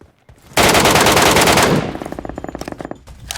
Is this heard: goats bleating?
no